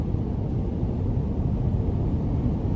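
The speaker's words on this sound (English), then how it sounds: "the cooled seat is definitely pretty strong. It's loud" A steady, even whoosh of the cooled-seat fan in a 2021 GMC Canyon Denali 4WD 3.6 blends with a low cabin rumble, constant and unbroken, with no speech.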